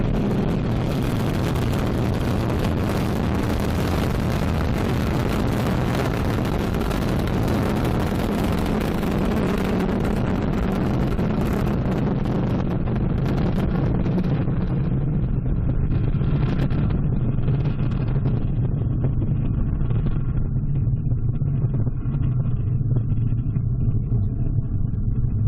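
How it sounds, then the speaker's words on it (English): An Ariane 5 ECA rocket lifts off carrying the BepiColombo probe to Mercury, its engines producing a loud, continuous broadband roar that slowly loses its upper hiss as the vehicle climbs away, with no voices over it. "The roar of our engines, a lot of fire"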